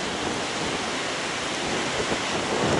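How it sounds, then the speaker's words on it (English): Water at a rolling boil over an outdoor bushcraft fire makes a loud, steady, dense rushing hiss that continues without pause. "It's on a rolling boil now"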